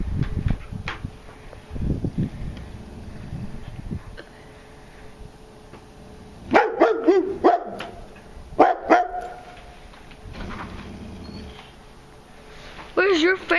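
A boxer dog barks in short bursts, loud and close, between stretches of outdoor rumble and people talking.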